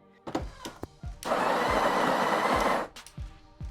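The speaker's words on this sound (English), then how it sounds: "I need to grind more because I need exactly 18" A coffee grinder grinding espresso beans, one loud steady whirring burst of about a second and a half, with small clicks and taps of handling before and after.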